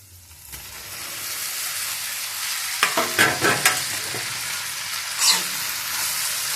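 Spices sizzling in an iron kadhai, a steady frying hiss with a few sharp stirring scrapes of a spoon in the middle and another near the end, close and alone.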